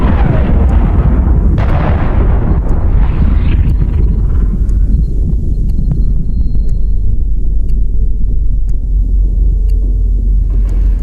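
Heavy turret artillery booms in the Iron Nest heavy turret simulator game, a loud deep blast followed by a long rolling rumble that fills the whole stretch, with faint pops and crackles on top.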